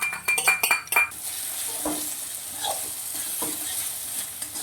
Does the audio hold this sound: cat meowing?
no